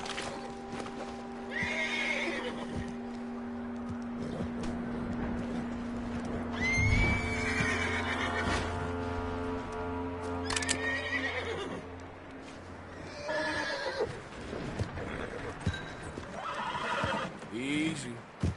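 A horse in the video game Red Dead Redemption 2 whinnies and snorts close by amid hoof clip-clops, with people talking over it throughout and scattered neighs recurring.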